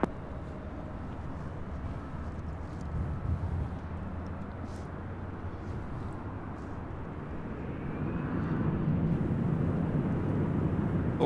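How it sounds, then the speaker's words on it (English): Delta Connection Embraer E175 regional jet taking off from runway 24 left at LAX, a steady broad jet roar that swells louder toward the end as the aircraft spools up and rolls, with no voices. "Here we have Delta Connection 3841 about to take off to Phoenix on an E175"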